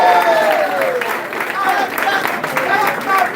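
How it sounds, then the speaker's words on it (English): An audience at a distributor training event claps briefly, a steady burst of applause with a voice speaking over it. "Applause to God Almighty."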